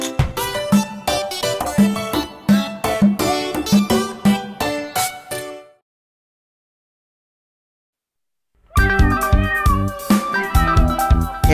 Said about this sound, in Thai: เธอได้ยินเสียงลูกแมวน้อย3ตัวไหม